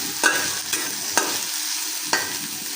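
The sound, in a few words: frying onion, green chili and garlic in pan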